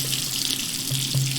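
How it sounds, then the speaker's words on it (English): Water gushing steadily from a garden hose into a large clay drinking-water pot, a continuous close hiss with a low tonal hum underneath, heard alone. "She looked and she saw a water hose and she turned it on"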